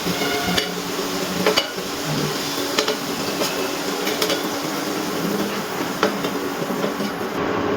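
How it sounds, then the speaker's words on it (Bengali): Potatoes fried in hot oil sizzle steadily while pieces are lifted out one by one, with soft periodic clinks of the utensil against the pan over the continuous frying hiss. "এবারে এক এক করে তেল থেকে তুলে নিচ্ছি"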